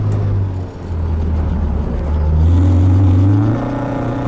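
A Honda-powered classic Mini accelerating hard from inside the car, a loud steady engine roar that dips briefly, then climbs as it pulls through the revs.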